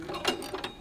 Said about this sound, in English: We'll remove these screws.